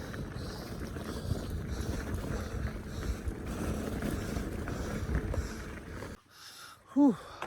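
Steady wind rushes and buffets against the microphone, with low rumbling gusts, then drops away near the end as a short tonal squeak rises briefly.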